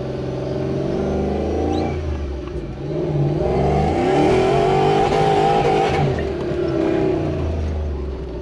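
A supercharged Toyota Hilux pickup engine revs hard in third gear and climbs in pitch, holding a loud, strained drone for several seconds with a brief dip partway through.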